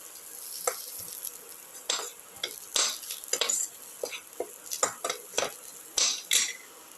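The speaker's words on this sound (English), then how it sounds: "Keep on sauteing." Food being stirred and sautéed in a pan with cucumber and potato, a spoon clinking and scraping in irregular bursts over a soft sizzle, close and fairly quiet, no talking.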